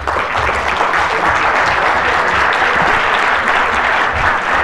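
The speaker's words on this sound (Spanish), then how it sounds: "vamos a invitarlos a que se pongan de pie, por favor, y los vamos a aplaudir como se merecen" Sustained, dense applause fills a conference hall as the audience stands for a standing ovation, a steady loud wash of clapping with no voices over it.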